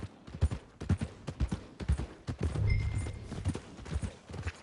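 Horse hooves clip-clop steadily on the ground in the video game Red Dead Redemption 2, a close, rhythmic series of distinct thuds with a brief rumble in the middle.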